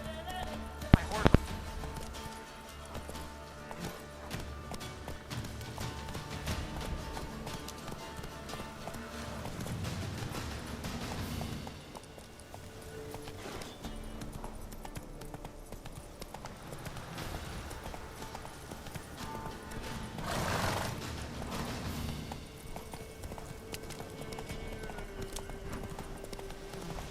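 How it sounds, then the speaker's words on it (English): Horse hooves clip-clop steadily in The Witcher 3 game, with occasional brief whinnies, set under continuous game music and ambience throughout. "My horse."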